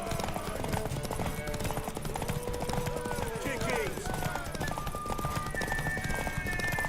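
Horse hooves clip-clop steadily beneath a busy in-game soundscape from The Witcher 3, with a brief whinny partway through and a voice speaking over the mix.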